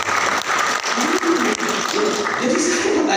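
At a religious lecture, a large audience of several thousand claps in a dense, continuous burst under a speaker's voice.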